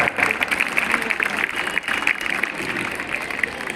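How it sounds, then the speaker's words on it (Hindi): Applause from an audience welcoming teachers at a school Independence Day celebration, steady crowd clapping with sharper individual claps standing out, faint voices underneath. "हम चाहेंगे हमारे टीचर के लिए आप जोरदार तालियों से उनका स्वागत करें।"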